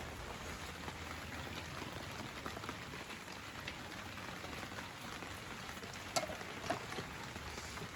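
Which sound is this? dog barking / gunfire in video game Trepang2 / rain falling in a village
rain falling in a village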